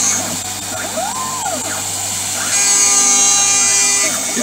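A CNC mill spot drills an aluminium rim in shallow pecks, giving a steady high-pitched motor whine with rising and falling tones that loudens toward the end.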